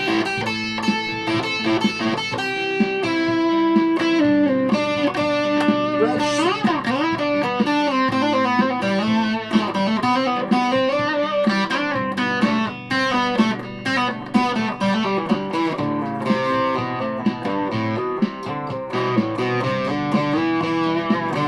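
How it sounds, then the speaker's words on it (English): A 1983 Japanese Squier Bullet electric guitar with single-coil pickups plays through a Washburn stack with light distortion, a continuous run of sustained chords and melodic lines, loud and steady with no talk. "A wee bit of distortion on the Washburn stack of the box."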